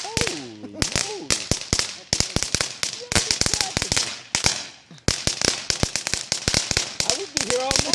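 Cheap, junky fireworks and firecrackers set off in a street around midnight, a rapid volley of loud sharp cracks and bangs in bursts with brief pauses, voices talking and exclaiming between and over the blasts.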